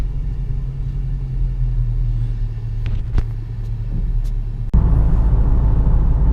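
The engine of a 2017 Dodge Charger 392 Scat Pack drones deep and steady from inside the cabin while driving, then jumps to a louder, rougher rumble near the end, with a couple of faint clicks.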